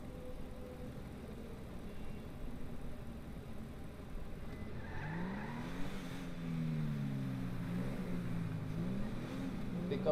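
Rolls-Royce car engine on a test drive in GTA 5, a steady low hum that rises into a climbing, wavering rev midway and keeps pulling through gear changes, moderately loud and alone.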